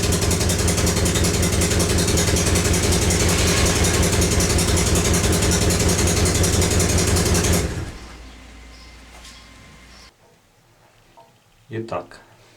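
A car engine idles with a burnt-through exhaust downpipe, giving a loud, steady, throbbing rumble close by that suddenly cuts out, leaving faint handling noises and a couple of soft knocks.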